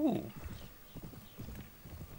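Horse in the medieval combat game Mount & Blade Warband, with the 1257AD mod: a short whinny at the start, then soft, steady hoof clip-clops under a man's speech.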